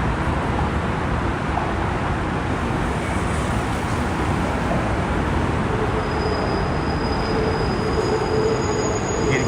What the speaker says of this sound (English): You can hear the turning and the squealing of the number 7 train.